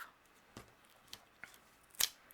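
Scissors snip through photo-printed card panels in a few short, separate cuts, near and crisp, with quiet pauses between them.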